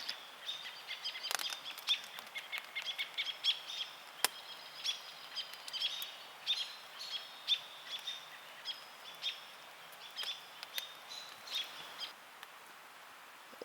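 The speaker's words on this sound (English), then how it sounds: "Just enjoying listening to all the bird sounds." Many birds call and chirp around a lake camp in the early morning, short bright calls repeating near and far, with no talk.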